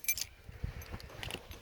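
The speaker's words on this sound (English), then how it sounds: "Keys." A bunch of keys jangling close by in a garage while an XA Falcon wagon is examined, a brief bright metallic clinking at the start and again near the end over low background noise.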